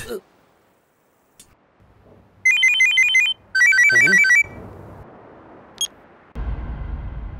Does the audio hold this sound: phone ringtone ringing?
yes